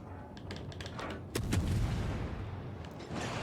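Guns on a US Navy destroyer firing in World of Warships Legends: a few sharp reports, one heavy boom standing out in the middle, over low rumbling battle noise, fairly loud and close.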